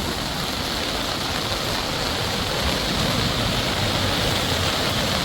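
A flooded village river rushes past in a dense, unbroken roar of moving water, loud and constant throughout, with no voices.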